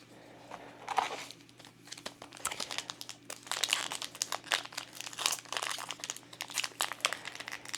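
A Disney Lorcana Archazia booster pack wrapper crinkles and tears close up, in rapid repeated rustling bursts over a low steady hum.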